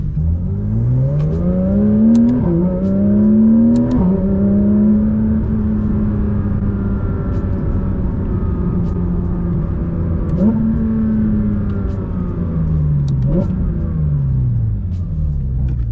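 Straight-piped Porsche 992 GT3 RS, heard from inside the car: a loud, raw exhaust roar that climbs and drops through repeated revving sweeps and gear changes over a continuous low rumble, with occasional small clicks.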